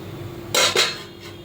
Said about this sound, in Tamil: இதை அப்படியே நம்ம ஒரு மூடி போட்டு கொதிக்க விடலாம்